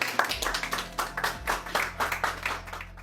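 Audience applause at a polio-eradication event, a crowd clapping steadily and briskly for about three seconds, loud and close with no voices over it.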